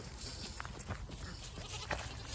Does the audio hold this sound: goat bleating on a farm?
yes